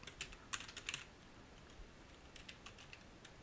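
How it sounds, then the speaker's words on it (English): Quiet typing on a computer keyboard, bursts of soft, quick clicking keystrokes separated by a short pause. "type in your password, and then click Log In"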